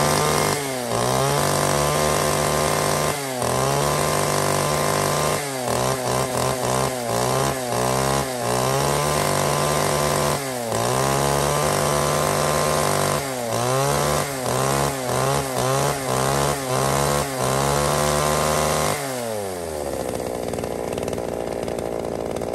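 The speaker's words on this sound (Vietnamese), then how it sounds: "các bác cần tìm một chiếc máy cưa mà tiết kiệm nhiên liệu" Japanese-market domestic chainsaw, sold as fuel-efficient, running loud and close for about nineteen seconds, its engine revving up and dropping back in repeated bursts, then winding down to a steady idle near the end.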